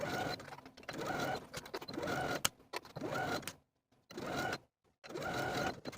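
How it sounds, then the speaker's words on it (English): A sewing machine runs in bursts while edge stitching a fabric sleeve hem, whirring steadily for a second or so at a time, broken by short pauses and a few sharp clicks, close and clear. "edge stitch close to those finished edges all"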